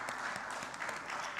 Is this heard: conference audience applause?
yes